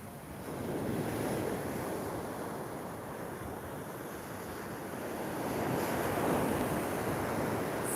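Ocean surf at Laguna Beach: continuous, loud waves washing in, with blustery wind buffeting the microphone. The roar swells slightly near the end, and no one speaks.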